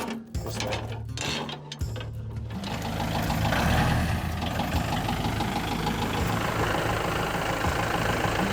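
Steady idling rumble of a tractor engine, loud and near and running continuously, with a thin whine and louder revving near the start, no talking.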